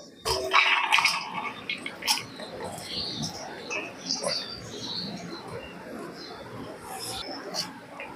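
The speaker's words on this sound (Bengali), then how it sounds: "এবার এই বিরিয়ানিটাকে আমি এই গামলির মধ্যে ঢেলে নেব, পরিবেশন করতে সুবিধা হবে।" Egg biryani is poured from a pot into a serving bowl, with scattered scrapes, soft clatter and rice pattering against the metal, close by and fairly quiet.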